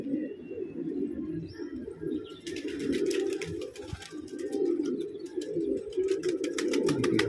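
Pigeons coo in a steady, low throaty murmur close at hand, joined partway through by a dense patter of rapid clicks or wing and foot scuffs that continues to the end.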